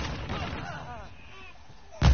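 Gunfire sounds in the video game Call of Duty: Warzone as a loud blast near the end, following quieter muffled game noise and tonal sounds.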